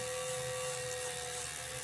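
A rotary drill runs in a steady, high, continuous whine while polishing a wire weave pendant after a patina, with no pauses or talk across the short span.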